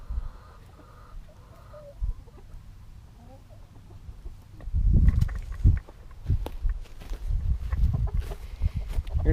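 Chickens cluck and rustle in a farm coop, faint at first and then louder and busier, with scattered footsteps and movement close by.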